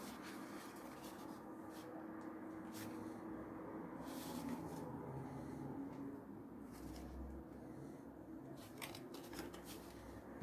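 Scissors snip a length of string to serve as a tie on a handmade paper minibook, giving soft, close cuts and rubbing over a steady low room hum, with no talking.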